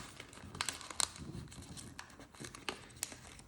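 Paper is folded into an origami box, with soft crinkles and sharp creasing snaps coming in irregular bursts, close and quiet, and no one speaking.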